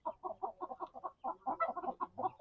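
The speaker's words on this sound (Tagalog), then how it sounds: "Mga native yan na manok ko." Native chickens cluck in a steady, busy chorus close by, short overlapping calls repeating throughout on a mountain farm.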